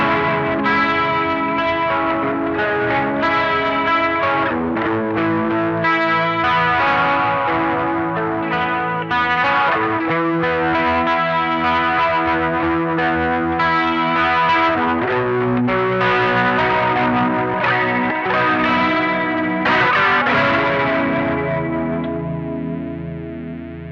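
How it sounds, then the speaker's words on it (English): Electric guitar played through a UA Astra chorus pedal, a clone of the original Boss chorus, set after distortion, giving a shimmering, warbling modulated tone with sustained chords and notes that ring steadily and loud throughout, with no talking. "We've got it set to a chorus, so this is just this is just a clone of the original chorus from Boss Roland"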